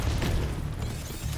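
A short, heavy boom from a blast at a door in a video game, a loud low burst that rumbles and fades within about a second.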